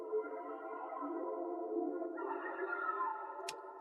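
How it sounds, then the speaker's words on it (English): Sustained analog-style synth pad from an Analog Lab bank playing chords for an R&B loop, smooth and continuous with a chord change midway and a brief bright tick near the end; no talking. "The first one sounds like this, just copying the chords that we started with."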